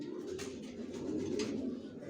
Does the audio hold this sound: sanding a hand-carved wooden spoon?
no